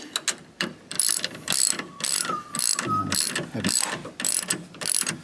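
Ratchet cranking down the mounting bolts on a Clearview Next Gen powerfold mirror on an LC200 Land Cruiser, a close run of short rapid clicking bursts with brief pauses between strokes, no talking.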